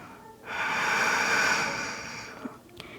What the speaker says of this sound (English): Focus on a few deep breaths.